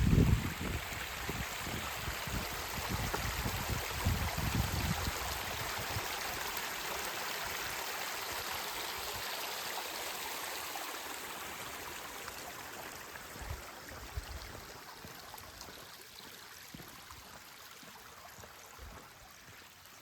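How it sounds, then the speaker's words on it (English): A stream tumbles over rock in small waterfalls beside a quiet rural road, a steady broadband rush of running water that stays close and even for the whole stretch, with no voices. "waterfalls coming down on the rock."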